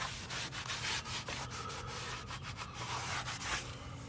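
Topical coating is rubbed and scraped off a Mexican tile floor, a close, steady gritty scrubbing with rhythmic strokes and short pauses, no talking.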